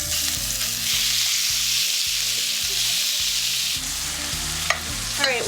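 Seasoned lamb pieces frying in a hot pan, a loud steady sizzle close by with a few clinks of utensils near the end, no talking.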